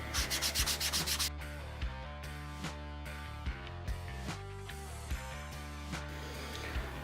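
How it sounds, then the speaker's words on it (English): A Scotch-Brite pad buffs the edges of an IWB appendix holster, making quick rhythmic rubbing strokes close by, a fast flurry at first and then slower, spaced scrubs. "you're going to follow it up with the Scotch-Brite pad. Do the same thing and buff it all the way around."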